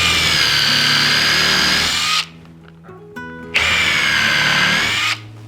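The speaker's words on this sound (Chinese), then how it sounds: "我们使用成孔钻" A hole-forming drill bores into wood while a bench is assembled, two loud sustained whining bursts separated by a brief quieter pause with some lower tones.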